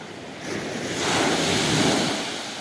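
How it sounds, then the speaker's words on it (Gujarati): Sea waves wash ashore at Mahuva port on the Gujarat coast, a loud, continuous roar of surf that swells and recedes, with heavy wind buffeting the microphone. "આવી રીતના મોજા છે અને પાણી ઠેઠ અહીંયા આવી ગયું"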